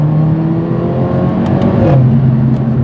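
A Mercedes-AMG A45 4MATIC+ (W176) engine revs up close on a public-road test drive, a loud continuous growl whose pitch climbs and then drops back as the throttle lifts.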